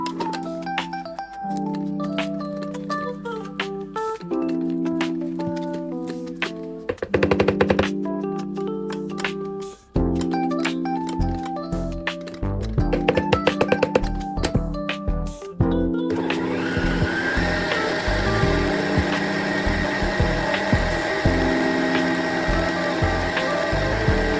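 An electric mixer beats homemade herb Boursin cheese, whirring loudly and steadily up close with shifting motor pitch and brief pauses, no talking.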